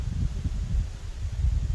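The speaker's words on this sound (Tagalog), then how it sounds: "Mahangin." Steady wind gusting through a cold vegetable garden in Hong Kong with cabbage, radish and bean plants, a low, rumbling buffet of air against the microphone, fairly faint and without voices.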